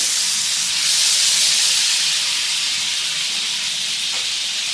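A spoonful of butter sizzles in a hot kadai for pulao, a loud, steady, broad hiss that continues unbroken without talk.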